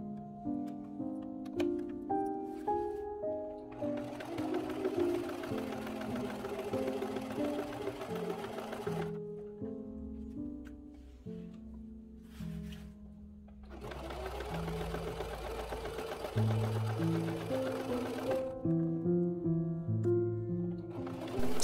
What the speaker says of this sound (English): I back tacked at all of my corners and made sure that the needle was down so that I could pivot and make those sharp corners